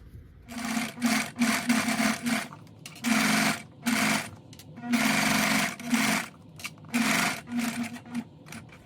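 A sewing machine topstitches a vinyl bag strap at a long stitch length, running in close, loud bursts of rapid mechanical whirring separated by short pauses.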